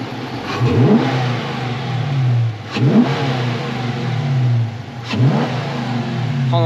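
An old Dodge Coronet V8 engine idles with a deep rumble and is revved three times in sharp, evenly spaced bursts, each climbing quickly and falling back to idle, close and loud.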